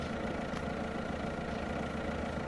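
A car engine in a virtual reality driving game hums steadily at low revs, faint and even throughout, with no talking.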